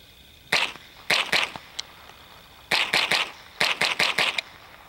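Remington 597 semi-automatic .22 rifle emptying a 30-round magazine, sharp cracking shots in uneven bursts of three to four with brief pauses, loud and close against quiet outdoor background.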